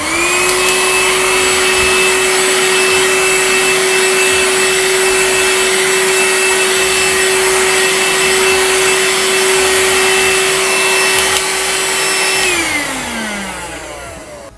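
A Vaclife VL189 cordless handheld vacuum fitted with its brush head whines loudly and steadily up close, its pitch holding level before it winds down as the motor switches off near the end.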